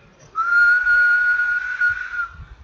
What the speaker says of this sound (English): there is a particular one frequency sound which is dominated in the whistle